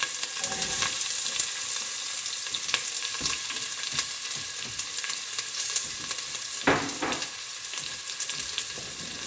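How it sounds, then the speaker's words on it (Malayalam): Chopped onion sizzling and frying in hot vegetable oil in a pan, a steady crackling hiss with occasional stirring scrapes, close and continuous for several seconds, no talking. "നമ്മൾ കട്ട് ചെയ്ത് വെച്ചേക്കുന്ന ഒനിയൻ നമുക്ക് ആദ്യം ആഡ് ചെയ്ത് കൊടുക്കാം"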